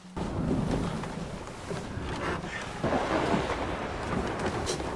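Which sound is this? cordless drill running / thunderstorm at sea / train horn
thunderstorm at sea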